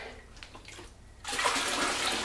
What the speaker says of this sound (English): I'm running the hose back into that.